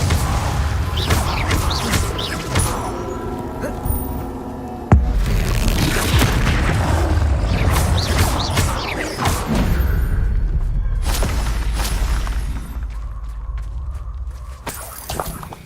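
Spell-casting in the Hogwarts Legacy game on PC bursts into loud booming blasts and shattering crashes, one sharp impact followed by sustained rumbling and debris, layered with game effects and no talk.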